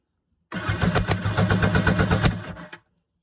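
A 1992 Kawasaki 650SX jet ski engine cranks over for a compression test, a loud, rhythmic starter chug lasting about two seconds before stopping abruptly, close up with no talk.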